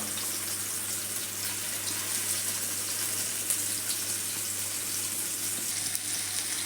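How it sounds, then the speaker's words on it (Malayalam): Prawns fry in masala in a pan, giving a steady, loud, continuous sizzle with a dense hiss and crackle that runs the whole time without any talk. "ഇനി കൊഞ്ച് ചേർത്ത് കൊടുക്കാം നമുക്ക്."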